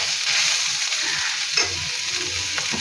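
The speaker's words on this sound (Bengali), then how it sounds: "একটু নাড়ে চেড়ে দিলাম।" Bitter gourd frying in a pan for korola chochori, a loud steady sizzle with scraping stirs and one sharper clack of the utensil, nearby with no talk.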